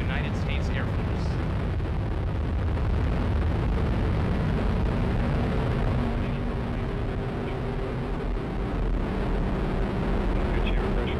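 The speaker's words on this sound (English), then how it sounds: "liftoff of the United Launch Alliance Atlas V rocket with AFSPC 11 from the United States Air Force" A United Launch Alliance Atlas V rocket lifts off carrying the US Air Force AFSPC 11 payload, giving a loud, continuous, broadband roar and deep rumble that holds steady throughout with no break.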